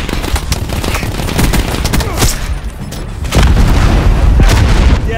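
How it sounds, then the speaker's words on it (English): Heavy missile blast and barrage in Call of Duty Black Ops 4, dense booming explosions and rapid gunfire-like crackle filling the whole span, growing louder and fuller in the second half. "You got an inbound Hellstorm missile, man."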